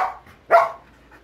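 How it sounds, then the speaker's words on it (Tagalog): A single sharp bark from one of two grown German Shepherds, close and loud, preceded by a brief softer yelp and followed by quiet. "Yung dalawang German Shepherd, lumaki na."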